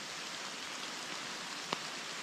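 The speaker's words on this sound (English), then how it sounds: "it keeps pouring like this, I'm gonna be screwed." Steady, dense rain hiss pours down without a break, with one brief sharper tap partway through.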